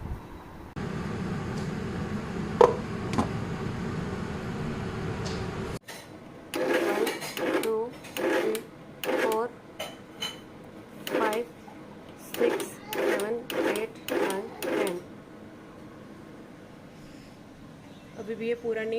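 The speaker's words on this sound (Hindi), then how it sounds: "इसे अच्छी तरह से साफ़ करके ग्राइंडर में डाल दें और इसके बाद हम इसे इस तरह से क्रश करेंगे" A kitchen grinder crushes garlic in short repeated bursts, each pulse a loud whirring grind separated by brief pauses, following a stretch of talk in a home kitchen.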